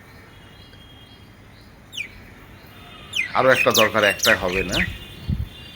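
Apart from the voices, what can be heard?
birds calling in rooftop garden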